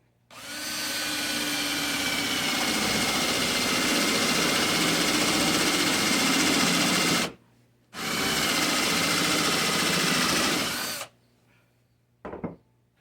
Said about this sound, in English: I'm going to drill 1/2 inch up here for the stem of the pumpkin.